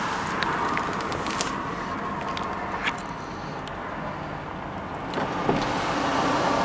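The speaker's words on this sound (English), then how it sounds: "Sunroof is working great." A power sunroof on a 2005 Honda Pilot EX-L with 144k miles runs with a steady electric motor hum inside the cabin, with faint clicks and a soft thunk near the end of its travel.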